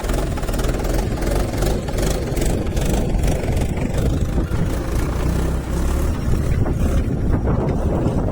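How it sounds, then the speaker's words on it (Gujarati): A heavy tractor engine drones steadily throughout while sowing cumin in a field, a constant low rumble mixed with wind buffeting the microphone. "અમે ટ્રેક્ટર ચાલુ છે જીરું વાવવાનું"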